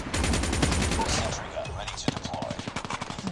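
Rapid bursts of automatic gunfire in Call of Duty Mobile, a dense, loud stream of shots that thins into a steady rhythmic run of single reports, with no one talking over it.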